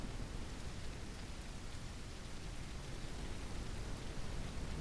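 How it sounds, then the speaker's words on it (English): Steady, dense rain pours down during a stormy spell in a video game, a continuous even hiss with no breaks across the whole stretch. "Ooh, it's starting to become stormy."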